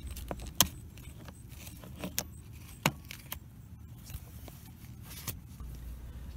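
A car key clicks and a set of keys jangles while unlatching a Honda seat belt anchor in the back seat, giving faint, scattered metallic taps and rattles over quiet background.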